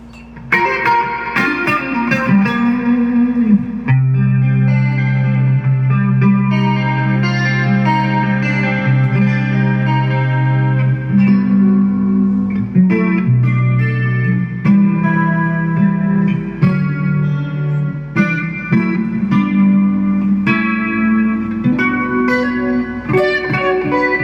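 A guitar run through the BOSS IR-200 room reverb plays a continuous passage of chords and melodic lines, steady and fairly loud, with a modest, natural-sounding room decay and no talking.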